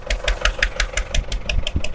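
An MTZ tractor engine runs while working a soft field, a loud, close diesel throb with an even, rapid knocking pulse throughout.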